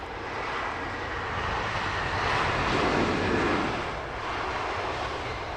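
KLM airliner arriving from Amsterdam at Heathrow, a distant broad jet roar that builds gently to a peak mid-way and eases off again, with no voices.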